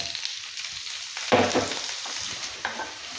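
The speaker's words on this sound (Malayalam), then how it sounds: "ഇതിലേക്ക് നമുക്കിനി അരിഞ്ഞു വെച്ചിരിക്കുന്ന പൊട്ടറ്റോയും ബീൻസും ഇട്ട് കൊടുക്കാം." Thinly sliced potato and beans tossed into hot oil with cumin and garlic, stirred and frying with a steady sizzle, a louder scrape-and-hiss burst as the vegetables hit the pan, then a second smaller stir.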